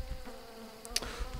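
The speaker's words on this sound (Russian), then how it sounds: "Звуки мух." Flies buzz in the survival game Don't Starve, a faint steady drone under low ambient game sound with a couple of brief sharp clicks.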